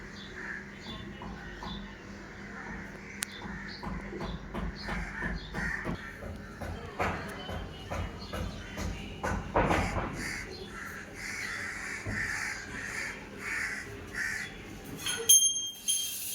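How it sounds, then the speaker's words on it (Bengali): Crows caw and other birds call in the morning near a home shrine, the repeated calls carrying throughout over faint rustling and shuffling sounds. "আর সকালে এই পাখির ডাকটা এত সুন্দর"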